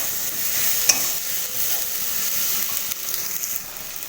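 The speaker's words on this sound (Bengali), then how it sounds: "এবার এর মধ্যে ভেজে রাখা শুটকি মাছগুলো দিয়ে দেব, একসাথে খুব ভালোভাবে কষিয়ে নেব।" Fried dried fish (shutki) being stirred and sautéed in a frying pan with vegetables, a continuous soft sizzle with an occasional scrape of the spatula, close and steady.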